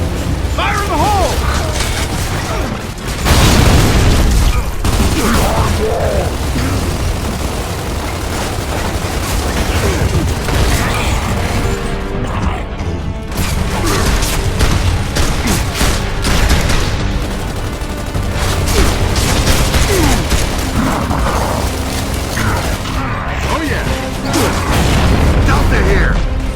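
Gears of War 2 combat at a roadblock fills the scene with sustained gunfire, rattling automatic bursts and heavy booming explosions, dense and continuous throughout with shouted voices mixed in.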